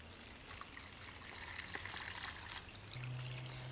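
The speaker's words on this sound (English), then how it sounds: "and then I can pour the water into here." Water poured from a scoop cut from a plastic bottle into a storage bag outdoors while backpacking, a soft, faint trickle and splash running steadily for a few seconds at close range with no talk.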